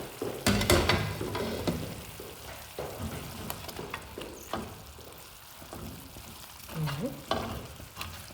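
Meat fries in a pan as it is stirred, a steady sizzle broken by scraping knocks of the spoon against the pan, close up and fairly quiet.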